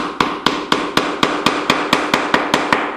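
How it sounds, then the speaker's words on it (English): A small hammer taps a wedge into a wooden picture frame, giving eleven sharp, evenly spaced strikes at close range with a short ring after each one and no talking. "Little hammer. I just tap that in."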